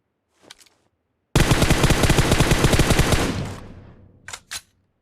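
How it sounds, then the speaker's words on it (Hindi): Rapid automatic gunfire in PUBG Mobile, a long sustained burst of loud shots lasting about two seconds, followed by a few isolated single shots before and after. "अब मेरे को इस साइड से आने लगती है फायर की साउंड"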